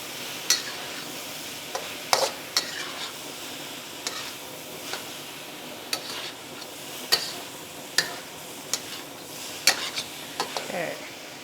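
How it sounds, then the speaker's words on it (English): Chicken stirred and mixed in a hot pan, a low sizzle under repeated sharp clicks and knocks of a utensil against the pan at an uneven rhythm, with no talk. "Chicken back in the pan. I'm going to mix all this together."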